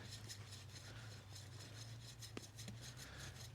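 A kitchen knife is drawn across a basic whetstone in steady, repeated rasping strokes, moderately close and fairly quiet over a low constant hum, with no one talking.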